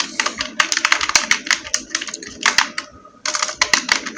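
Rapid clicking of a computer keyboard as text is typed into MS Word, the keys clattering in quick, uneven bursts with one brief pause, close and crisp with no voices.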